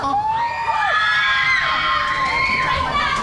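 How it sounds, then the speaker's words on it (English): Children shouting and screaming together on the Pantheon roller coaster at Busch Gardens Williamsburg, a loud, high, sustained group scream lasting a few seconds. "Give your best scream."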